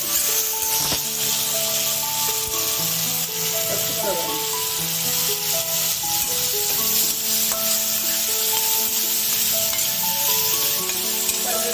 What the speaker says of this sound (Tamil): கொஞ்சம் எண்ணெயிலே வதங்கணும்